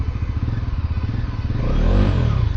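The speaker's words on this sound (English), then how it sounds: "And let's check the rev." A 2024 Bajaj Pulsar NS400Z motorcycle engine idles with a rapid, even throb, then revs up into a louder, rising roar close by.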